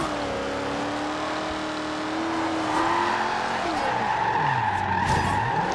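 Ford Cobra R sliding sideways in Forza Horizon 2, tires squealing in a long continuous skid over a droning, shifting engine note, loud and close, with a voice talking over it.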